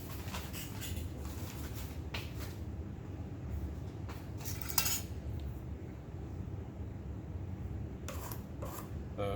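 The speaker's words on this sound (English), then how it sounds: "my top is a little bit crooked, so I'm gonna have to trim that off" A needle tool or knife scraping and cutting around the crooked top rim of a clay slab cylinder, with steady rasping and intermittent scratchy strokes over a constant low background hum.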